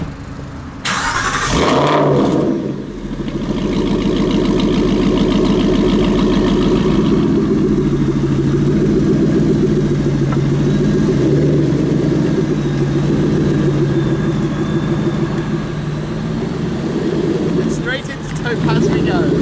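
A Porsche GT8 car engine fires up around the second mark and settles into a loud, steady idle that continues close by for most of the clip, with a brief dip near the end.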